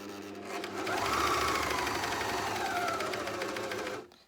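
A JUKI MCS-1500N coverstitch machine sewing a hem, running in one continuous close, even whirring burst of about three seconds that starts and stops cleanly, with no voices.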